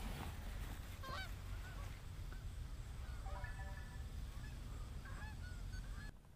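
Geese honking over a wheat field during an early-season goose hunt, repeated scattered calls near and far over a steady outdoor background, with no talking.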